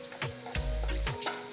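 Chopped capsicum and green chilli stir-fried over high flame for egg fried rice, a close sizzle broken by quick scraping strokes of the spatula in the pan.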